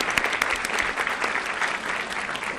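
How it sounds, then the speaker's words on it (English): An audience at an education summit applauds for parents, a brief dense burst of clapping from many hands. "Let's applaud our parents for the great job they do."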